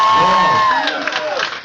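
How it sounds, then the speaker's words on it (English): Audience at a hypnotist stage show in a pub, a burst of crowd noise with cheering and clapping under a sustained tone that bends downward, fairly loud and full throughout. "Give them another set of applause."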